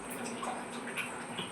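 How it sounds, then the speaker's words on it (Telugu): A glass of water is poured into a blackened pot during cleaning, a soft continuous splashing trickle heard faintly and close up. "ఒక గ్లాస్ వాటర్ పోసేసుకోవాలి."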